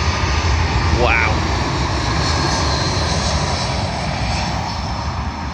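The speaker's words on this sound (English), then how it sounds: "Arriving in now is yet again another British Airways plane, this time an A321neo from Edinburgh to London Heathrow" A British Airways Airbus A321neo jet arriving at London Heathrow on runway 27L gives a loud, continuous engine roar with a brief descending whine early on, while a person talks over it.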